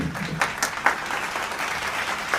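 Audience applause fills an auditorium at a Kannada stage event, a steady wash of many hands clapping with a few louder bursts, no voices over it.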